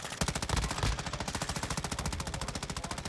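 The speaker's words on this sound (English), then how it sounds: "Getting shot here." Rapid automatic gunfire in the video game Call of Duty, a loud, steady burst of evenly spaced shots with a heavy opening blast, heard alone without talk.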